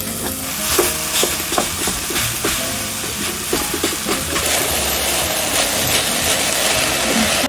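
Ground sausage frying in a pan, a steady crackling sizzle with occasional scraping stirs, fairly close and continuous.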